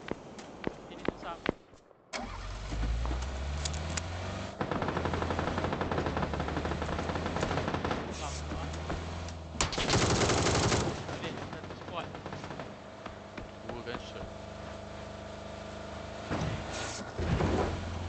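Sustained bursts of automatic gunfire fill an online shooter match, with dense rapid shots that pause briefly and then resume, loud and continuous under players' voices calling out to each other.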